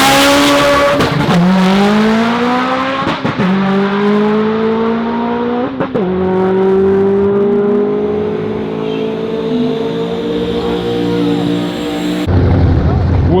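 A 2007 Subaru STi drag race car screams up through the gears down the strip, pitch climbing and dropping with each shift, roaring continuously before cutting off sharply at the end.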